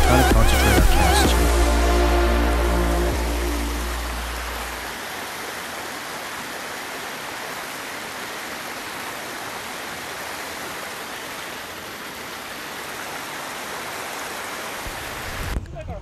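Fast-running water of the Credit River, a steady broad rushing wash heard close for most of the stretch, preceded at the start by a loud low hum and tonal sound fading out.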